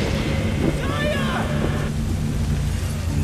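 Steady rain in the video game Kena: Bridge of Spirits during a climbing section, a constant broad wash of rainfall with faint tonal game sounds, and a voice speaking over it briefly.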